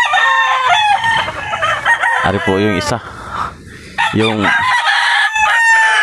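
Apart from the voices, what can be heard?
gamecock roosters crowing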